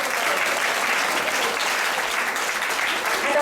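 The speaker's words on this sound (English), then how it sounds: "let's give them a round of applause" Festival-goers at a temple Sunday gathering in Atlanta applaud the volunteers with dense, sustained clapping throughout, fairly loud and close.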